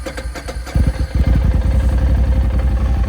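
A 2024 Polaris Indy Adventure 137 snowmobile with a twin-cylinder Pro Star S4 four-stroke engine cranks and catches, then settles into a loud, steady, close idle with no talking.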